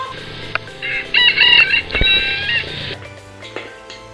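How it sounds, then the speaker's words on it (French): Nearby chicken in Malaysia crows loudly once in a drawn-out call, with faint clucks and background noise around it. "j'ai filmé une poule qui chantait"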